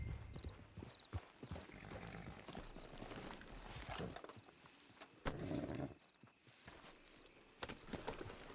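Horse hooves clip-clop at a walking pace in the Red Dead Redemption 2 online game, with occasional snorts and whinnies, fairly close amid ambient game sounds.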